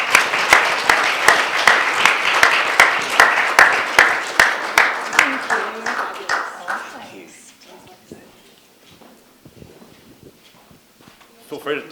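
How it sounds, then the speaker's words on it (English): A conference audience at a fair farms event claps in a strong, regular rhythm for about seven seconds. The clapping then fades to scattered quiet sounds and murmuring voices. "could you just join me in giving these guys a round of applause?"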